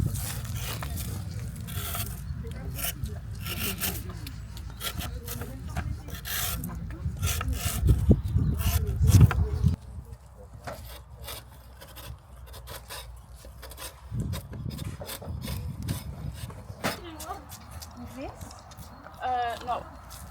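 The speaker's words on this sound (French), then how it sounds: "il faut enlever juste l'écorce" Bark being rubbed and scraped off a wooden log with a hand tool on a medieval-style building site, steady rasping strokes fading and returning, with people talking nearby.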